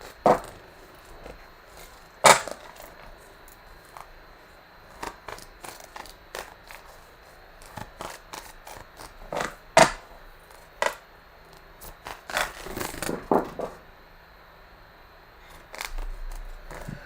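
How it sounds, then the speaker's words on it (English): Sporadic crisp snaps and riffles of tarot cards being shuffled, with quiet gaps between bursts and a short flurry of rapid flicks near the end. "I am shuffling the cards"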